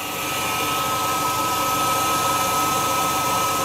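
An Atomstack X20 Pro laser engraver runs a test engraving, giving off a steady, loud, even whooshing hum like a fan or air pump, close and unbroken with no talking.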